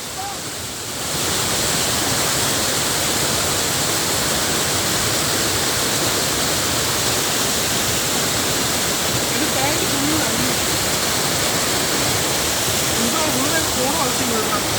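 Loud, steady roar of a waterfall in the Mangalam Dam forest, a dense continuous rush of falling water close by that fills the whole stretch without a break.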